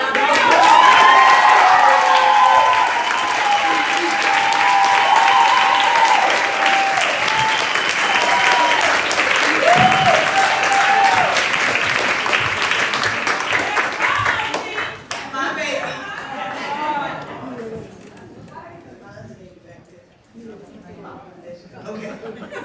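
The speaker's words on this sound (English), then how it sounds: "give her another round of applause" Loud, sustained audience applause at a ReformHER symposium in Miami fills the first fifteen seconds, then thins into scattered clapping with murmuring and voices beneath.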